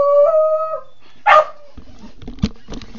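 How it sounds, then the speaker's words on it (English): A pet dog gives a drawn-out whine, then a sharp bark, followed by scuffling and a couple of softer yips, close and loud with no talking. "Well, that's my dog."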